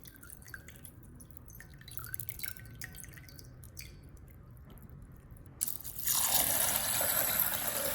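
Washed beans draining in a kitchen: steady close dripping and trickling water, then a sudden louder rush of pouring liquid that continues to the end, with no talking.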